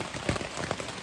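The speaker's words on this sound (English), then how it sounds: "As you can hear, it is raining." Pouring rain on a mountain trail gives a close, dense patter and hiss over a single second, with a few louder drops standing out.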